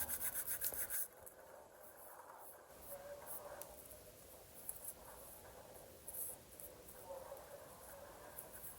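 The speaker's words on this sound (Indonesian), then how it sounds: "Kemudian bisa dilanjutkan dengan amplas yang sedikit lebih halus." Sandpaper rubs in soft, continuous strokes over thinned foam on an F1N indoor hand-launch glider, a faint, close scratching that starts rough and steadies into even passes.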